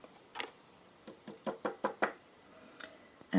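Craft card being tapped to shake off loose embossing powder, a run of about ten quick, light knocks in irregular bursts, fairly quiet and close, with no speech.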